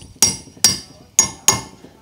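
A hammer taps a 15 mm metal socket down onto the thick part of a shaft on a Green Guard chute blocker, four sharp ringing metallic strikes, close and loud, with short gaps between them.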